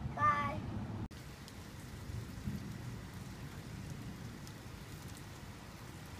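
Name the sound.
rainstorm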